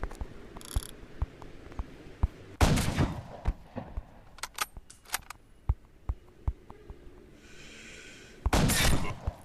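Gunfire in the Lone Wolf sniper video game: loud, sharp shots ring out as two big bursts and a scatter of single cracks, with smaller clicks and mechanical ticks in between, no voices.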